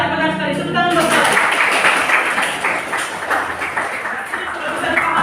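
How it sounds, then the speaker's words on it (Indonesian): Classroom applause during a music lesson on tempo and dynamics, a few seconds of steady, moderately loud clapping from a group after a brief burst of speech at the start. "Tepuk tangan buat saya."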